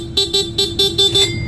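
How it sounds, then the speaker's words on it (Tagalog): The stock horn of an adventure motorcycle beeps in a rapid series of about six short, bright toots, close and fairly loud, with a steady idle hum underneath. "Tapos stock horn."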